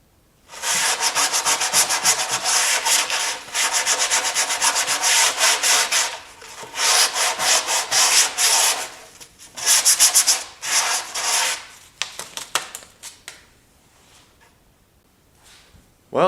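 Sanding the wood edge of a homemade subwoofer enclosure: loud, close, rasping strokes in long sustained bursts, broken by short pauses and quicker choppy passes near the end, with no talking.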